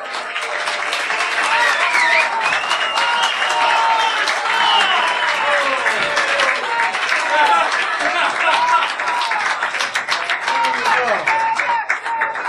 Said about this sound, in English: I want you all to start clapping and ask for an encore.